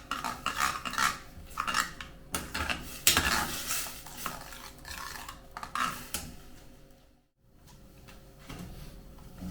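A ground spice paste being cooked in a pan until thick makes repeated scraping and stirring clatter from a utensil against the pan over a low sizzle. The sound is close and busy, then drops to near silence briefly before resuming.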